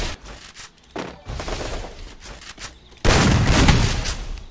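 Video game gunfire from a sniper fight, a dense run of loud shots and blasts, building into a heavy sustained barrage near the end.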